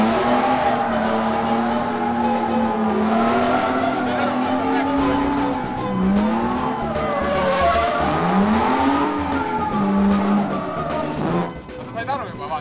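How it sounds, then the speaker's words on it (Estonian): Car drifting on a track, sustained engine drone with rising and falling tire squeal and skidding across most of the run, loud and close, with people talking throughout. "Nice drifting!"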